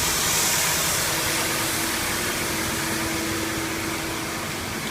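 An extractor fan runs in an engine dyno room, giving a loud, steady broadband whoosh of rushing air with a faint constant hum beneath and no voices.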